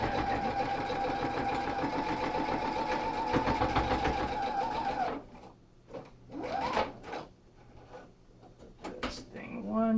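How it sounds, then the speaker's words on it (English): A sewing machine runs a steady straight stitch along a T-shirt sleeve for about five seconds, a continuous mid-loud mechanical whir, then stops and leaves quieter handling sounds and brief clatter. "I'm going to stitch through here, and I'm going to double stitch it just with a straight stitch"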